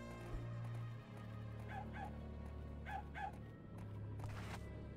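Dog barking in the video game The Nightmare Before Christmas: Oogie's Revenge, a few short bark pairs in the middle distance over a steady droning game soundtrack.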